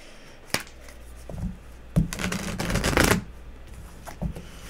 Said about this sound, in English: I'm shuffling the cards now for the air signs